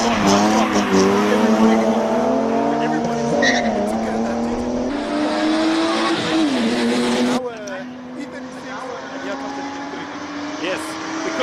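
BMW, an E36 M3 at a classic car event, warming its tires with a loud, sustained squeal and a revving engine, the pitch shifting as the spin continues before easing off; voices are heard underneath.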